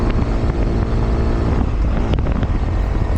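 Honda Grom motorcycle speeding along a canyon road, its engine a steady, loud drone heavily buffeted by wind rushing over the microphone throughout.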